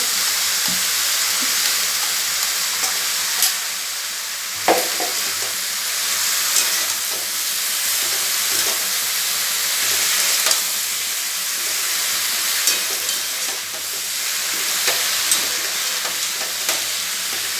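Bitter gourd and eggplant fry in a pan with mustard paste, a steady close sizzle running throughout with occasional stirring clicks and scrapes, no talking.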